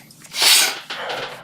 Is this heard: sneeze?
yes